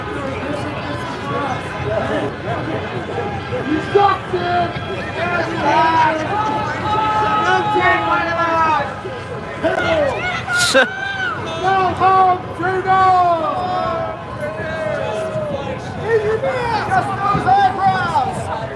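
Outdoor crowd at a BC Freedom Convoy rally, a steady murmur of many voices with scattered shouts and a brief loud burst near the middle, under amplified speech from a speaker addressing the gathering.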